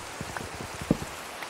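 Rain falling during a video game storm, a soft patter of scattered drops with one sharper splash near the middle, short and faint, with no voices.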